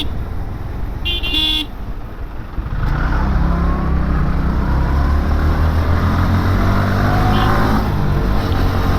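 Traffic in a road jam on the Jashore to Dhaka route, heard from a motorbike, brings a short car horn toot followed by the loud, continuous rumble of engines nearby.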